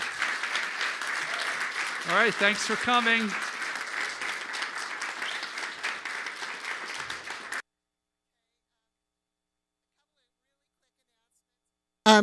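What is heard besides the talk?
applause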